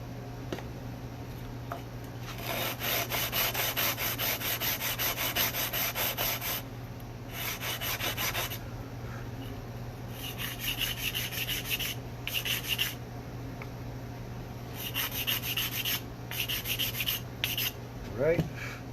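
A wooden string nut is sanded on a block with 120 grit sandpaper in repeated bursts of close, scratchy rubbing strokes, separated by brief pauses, over a steady low hum.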